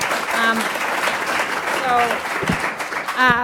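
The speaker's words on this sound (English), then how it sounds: "One more round of applause for Joe and Claire and Dennis." Audience applause at the close of a webinar on smart-city mobility: a steady wash of clapping from start to finish, with voices sounding over it.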